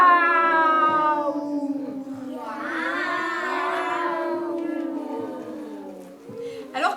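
A person imitates a cat with a long, drawn-out wavering meow, sung in a strained nasal voice.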